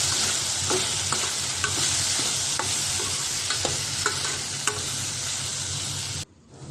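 Okra pieces stir-fried in a pan for bendakaya curry, with a steady close sizzle and regular scraping stirs about once a second that cut off abruptly near the end, no talk.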